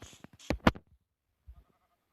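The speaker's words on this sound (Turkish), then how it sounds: "Koyun bir tane daha var." Sheep bleats in the Minecraft video game, a pair of short nasal calls close together followed by a fainter low bleat after a pause.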